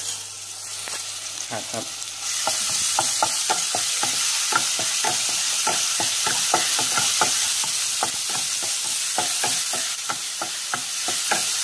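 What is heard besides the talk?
pounded chili and garlic frying in hot oil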